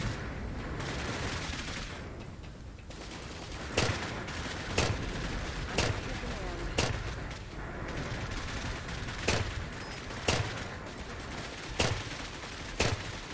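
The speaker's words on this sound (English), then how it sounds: "Nice with the grenade launchers." Weapons fire in the video game Cepheus Protocol, with grenade launchers repeatedly firing as sharp, loud bursts at roughly one-second intervals over a steady background battle rumble, no voices.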